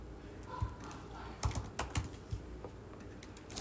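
Keyboard typing of a message, soft scattered key clicks in small bursts against a quiet room background.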